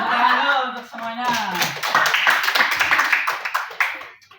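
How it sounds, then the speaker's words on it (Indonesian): A class of schoolchildren claps for everyone during a lesson: a voice is speaking at the start, then a burst of scattered hand clapping mixes with chatter and light laughter before stopping abruptly. "Tepuk tangan dulu untuk semuanya."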